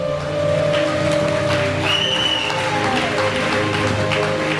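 A church congregation applauding and cheering in acclaim of Jesus: steady, dense clapping and crowd noise that fills the room throughout, with sustained musical tones beneath.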